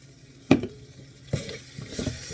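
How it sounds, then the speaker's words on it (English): A spoon scrapes and stirs a sloppy joe mixture with mustard in a pan, giving a few soft clinks and wet scraping strokes over a low sizzle. The sound is close and fairly quiet. "Stir it around in there."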